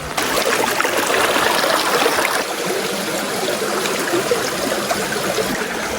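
Creek water rushes steadily over rocks, a close, continuous broadband flow with gurgling texture, alone and undisturbed for the whole stretch.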